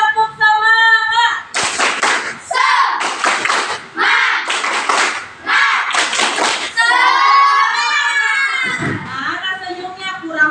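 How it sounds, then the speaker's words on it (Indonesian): A class of fifth-grade children doing a rhythmic clapping cheer in a classroom, with loud bursts of group claps in a set pattern alternating with a voice and children chanting. "Tepuk semangat."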